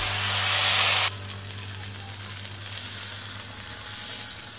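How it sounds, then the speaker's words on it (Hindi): Hot ghee tempering with mustard seeds poured into pakode ki kadhi gives a loud burst of sizzling for about a second, then settles into a softer, steady simmering hiss. "कड़ी में छौंक लगा देंगे।"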